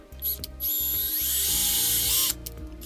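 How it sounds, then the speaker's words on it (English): A power drill countersinks a hole and drives a screw, a short ratcheting whir that starts and stops, then a steady high-pitched spinning drone for about two seconds before cutting off, close and clear. "And then we're going to countersink this just a little bit so we can get the screw started."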